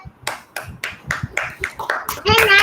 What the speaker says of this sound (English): When I call out the name, I want all of you to clap for your friend and cheer up.